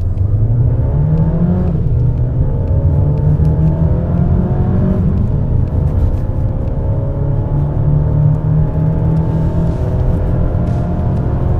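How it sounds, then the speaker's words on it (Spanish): Mercedes-Benz GLA 200 in Sport mode accelerating at full throttle, a loud continuous engine note climbing steadily in pitch through the gears with a brief dip at a shift, heard from inside the car with no talk. "lo primero que voy a hacer es la aceleración. Para eso lo voy a ubicar en modo Sport. Vamos a acelerar a fondo"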